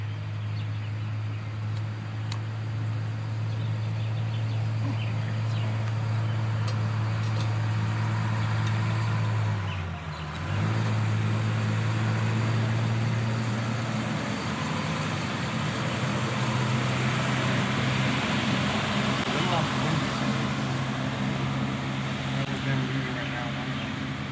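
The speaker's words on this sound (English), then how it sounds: "They pulled that way so they could hook up their car to their RV or their motorhome, and then they're pulling out now" A car and an RV motorhome idle and pull away from a campsite, with a steady low engine drone that dips briefly midway, then a lighter rolling rumble as they move off at moderate distance.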